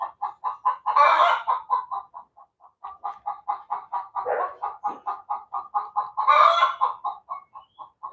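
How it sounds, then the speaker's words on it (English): An agitated chicken clucks rapidly and steadily for several seconds, with two louder squawking bursts breaking through the rhythmic series. The calls are close and clear, with no talking. "The chicken's getting excited"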